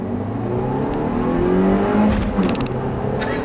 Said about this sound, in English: it is cool that I can do that little 1500 RPM clutch dump